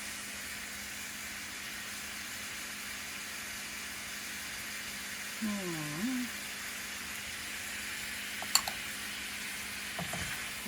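Pancit gisado noodles with carrots and oyster sauce sizzle faintly in a pan, a quiet steady frying hiss with a brief stirring scrape midway and a couple of light clinks near the end.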